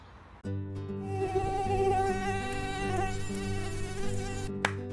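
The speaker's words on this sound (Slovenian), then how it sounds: "Ali tudi vas pika tigrasti komar?" A tiger mosquito, an invasive species, buzzing as a steady, close, high-pitched whine that holds for several seconds before a brief click near the end.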